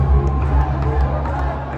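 A dense crowd of spectators claps and cheers at a volleyball match in Nepal, a steady roar of voices and applause filling the space without a break.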